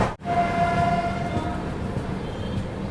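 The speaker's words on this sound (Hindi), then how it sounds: "अमृतसर से कटिहार के बीच चलने वाली अम्रपाली एक्सप्रेस" Amrapali Express passenger train running between Amritsar and Katihar, a steady loud rumble of rolling stock with a sustained tonal hum, heard close up from a crowded carriage door area, no talk.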